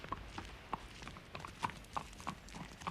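A horse's hooves clip-clop at a slow, even walking pace, each hoof strike a distinct knock repeating roughly every half second, faint and slightly distant in a quiet outdoor setting.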